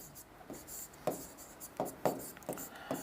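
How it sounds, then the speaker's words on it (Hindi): Chalk or marker writing a definition on a board, a series of short scratchy strokes in irregular rhythm, close and moderately faint with no talking. "मैं परिभाषा के रूप में लिख रहा हूं इसको"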